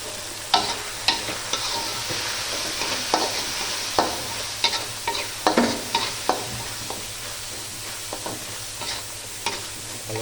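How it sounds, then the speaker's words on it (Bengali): Spice paste of chili, coriander, ginger and garlic being stirred in a frying pan for a singi fish curry, with a steady sizzle and regular scraping strokes of the spoon, close and loud, no voices. "ভালো করে নেড়ে ছেড়ে নিলাম।"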